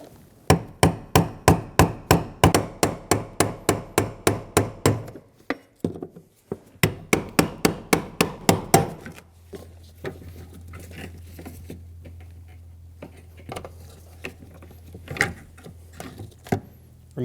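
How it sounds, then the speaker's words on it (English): Brass punch driven by a hammer against the fuel pump lock ring of a 2008-2015 Scion xB 2.4L, a rapid run of sharp metallic taps in two bursts, then quieter scattered knocks. "Using a brass punch and a hammer, we're going to remove our fuel lock ring."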